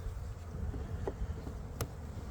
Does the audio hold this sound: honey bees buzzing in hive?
yes